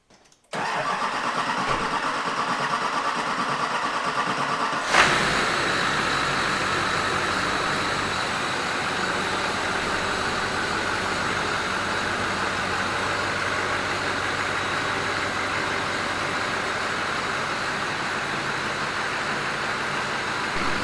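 An engine with a fuel injector stuck open cranks briefly and catches, then settles into a steady, loud idle that runs on without change.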